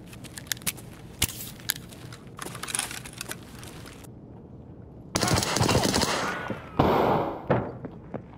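Bursts of automatic gunfire in Escape from Tarkov crackle loudly near the player, first as scattered sharp shots and then as dense sustained volleys, with brief speech in the mix.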